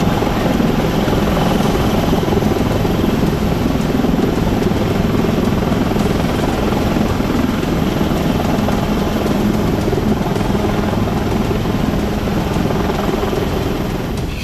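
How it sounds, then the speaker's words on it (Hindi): Army helicopter airlifting flood and landslide victims in Wayanad, Kerala, its rotor and engine roaring loud and steady without pause, close and dominant with no voices. "हेलीकॉप्टर्स के जरिए सैलाब में फंसे लोगों को एयरलिफ्ट किया जा रहा है"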